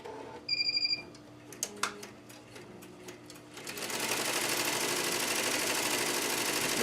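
An embroidery machine stitches to fill in an area, running steadily with a rapid mechanical chatter that grows louder and denser partway through, preceded by a few beeps and clicks.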